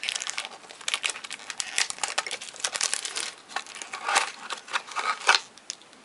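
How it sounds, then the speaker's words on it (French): A Kenzo perfume sample packet is torn and crinkled open up close, a busy run of irregular crackles and rustles that swells and fades over several seconds. "je suis en train d'ouvrir l'échantillon de chez Kenzo"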